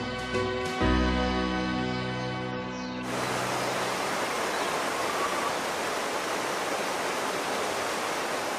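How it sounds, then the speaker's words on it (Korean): Stream water rushes through Jindong Valley in Inje, Gangwon, a dense, steady roar of mountain water. It rises as a music passage fades out and then continues alone at a constant level. "계곡의 물소리가 힘차게 산을 울립니다."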